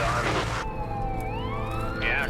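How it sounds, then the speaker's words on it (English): An ambulance siren wails past on a highway, its tone sweeping and wavering loudly over steady road noise and traffic rumble. "that's the second ambulance I've seen go by"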